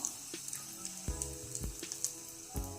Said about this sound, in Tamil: கடுகு நல்லா பொரிஞ்சிருச்சு